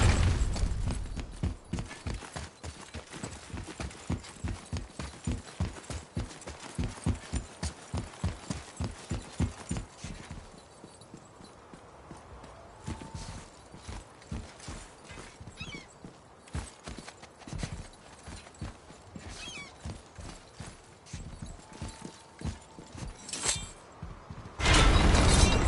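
Horse hooves clip-clop in a steady, quick rhythm while riding in the 2018 PS4 game God of War, up close and loud at first, then thinning into a softer, more scattered beat with a few faint snorts.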